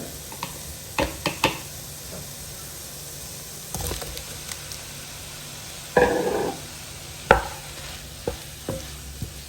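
Chopped tomatoes fry in a pan with a soft, steady sizzle, broken by several sharp scrapes and clacks as a spoon stirs them. The sounds are close and there is no talking.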